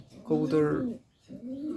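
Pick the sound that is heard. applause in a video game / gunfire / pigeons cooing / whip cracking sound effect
pigeons cooing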